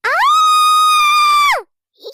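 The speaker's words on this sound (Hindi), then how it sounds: "खुद को आरव के बिस्तर में पाकर वो भी चीख पड़ती है।" A single loud, sustained high-pitched scream from a woman, rising sharply, holding steady for over a second, then dropping off abruptly.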